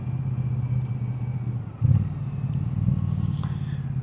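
A Triumph Scrambler 400X motorcycle engine holds a steady, low droning note, with a brief dip and a sharper surge just under two seconds in, then a continuous hum to the end.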